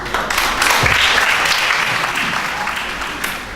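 Audience at a courts reading competition final applauding steadily after a reading, a dense, even wash of clapping from a full room that holds for several seconds.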